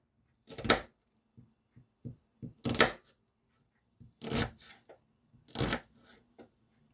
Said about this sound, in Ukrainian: Цибулю і моркву нарізаю.